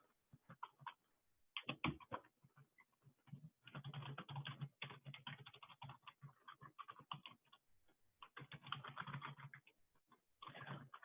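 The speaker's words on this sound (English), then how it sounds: "Let me just type it real fast." Bursts of rapid typing on a computer keyboard, quiet and close, with uneven clusters of key clicks separated by short pauses and no talk.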